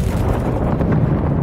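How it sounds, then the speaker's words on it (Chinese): A bombing explosion strikes a church roof in a Halo action TV series, a loud, dense rumbling blast that fills the whole moment with no voices. "教堂的屋顶就遭到了轰炸。"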